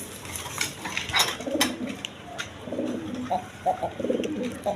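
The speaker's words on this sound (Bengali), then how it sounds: "এক পেয়ার রেড কালার আপনার লাহোরি কবুতর আছে, একদম বিগ সাইজে" A big-sized pair of red Lahori pigeons coo in short throaty bursts close by, with brief chirps and rustling between calls.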